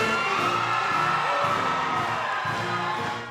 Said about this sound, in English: A whooping crowd reaction from Fort Bliss soldiers as the Commander-in-Chief took the stage